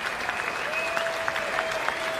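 Steady, sustained applause fills a cricket ground in a Vitality Blast T20 match between Somerset and Birmingham Bears, a home crowd clapping without pause at an even level.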